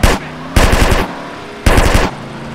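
Rapid automatic gunfire from a drive-by in GTA San Andreas with a BMW M5 E34, two loud close bursts of fast rattling shots over a steady engine hum.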